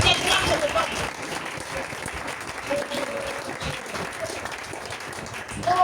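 A church congregation applauding during a service, a sustained crowd of clapping filling the room at moderate distance with voices mixed in.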